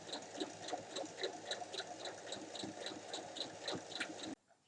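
A sewing machine stitches the bottom band of a fabric bag, a rapid steady mechanical chatter close by that runs for about four seconds and stops abruptly.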